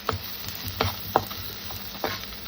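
Chopped onions and green chillies fry in a pan with a steady, moderate sizzle, punctuated by several sharp spatters and stirring clicks at irregular intervals, with no voices.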